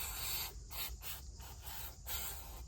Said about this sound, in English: just go along with some degreaser, spray degreaser.